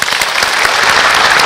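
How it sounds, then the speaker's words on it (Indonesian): A burst of dense, loud audience applause, many hands clapping together up close in a steady wash with no voices over it, at a heavy-class martial arts demonstration. "Tepuk tangan dong."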